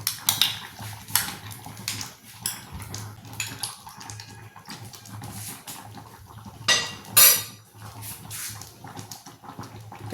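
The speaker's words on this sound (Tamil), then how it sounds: "இந்த அரிசி மாவு இதில் போட்டு இப்படி கலக்கி இதில் ஊற்றிக்குவோம்." A spoon stirs rice flour into coconut milk in a metal pot for pidi kozhukattai, making repeated light clinks and scrapes with some liquid sloshing, close by and fairly clear.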